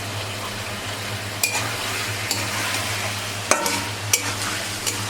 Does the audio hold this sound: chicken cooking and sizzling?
yes